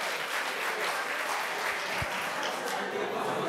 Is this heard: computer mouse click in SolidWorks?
no